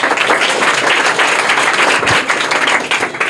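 Schoolchildren at a private school in Bihar applaud together in a dense, sustained burst of clapping that fills the room loudly and evenly throughout.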